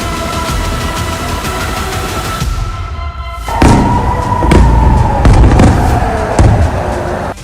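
Iranian ballistic missiles strike in the sky over Israel, heard as a loud distant rumble with tonal whine, then a sharp blast followed by heavy booming and thuds rolling on.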